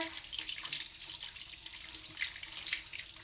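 Tap water running steadily into a sink while dyed fabric is rinsed under it, a continuous close splashing hiss with small fluctuations and no speech.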